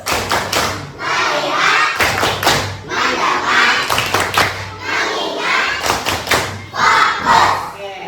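A class performs a rhythmic 'tepuk fokus' focus-clapping routine at an elementary school: several quick bursts of claps and hand taps in grouped patterns, loud and close, with voices chanting along between the beats.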